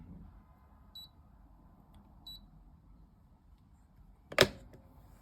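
A MantaBrew WeighMaster coffee scale gives two short, thin electronic beeps about a second apart as its units switch, followed by a louder click or tap against quiet background hiss.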